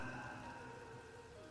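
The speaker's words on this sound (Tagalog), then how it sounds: "maririnig ang mga pagkulog at pagpuhos ng ulan" Steady rain pours down in a continuous, even wash, close and filling, with no distinct thunder rumble standing out.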